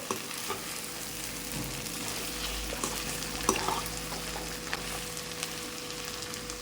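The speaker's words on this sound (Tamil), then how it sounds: "நல்லா கிளறிக்கலாம்" Chicken wings fry in a pan as they are stirred, with a constant soft sizzle and occasional spoon scrapes and knocks against the pan, and no voices.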